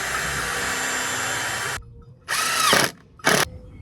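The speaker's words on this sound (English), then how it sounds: "Oh, you know, the drill." A power drill runs steadily for nearly two seconds during construction of a chicken tractor, then fires in two shorter bursts separated by near silence, close and loud.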